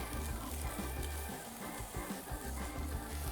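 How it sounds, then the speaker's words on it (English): About an ounce of onions sizzles in a hot pan for banh xeo, a dense, steady crackle and hiss heard close up with no talking. "you want to hear that sizzle on the grill as well"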